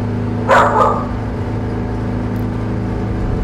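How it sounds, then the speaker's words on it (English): A brief burst of dog barking, a couple of quick barks close together, over a steady engine hum. "As the dogs decide that they need to be heard"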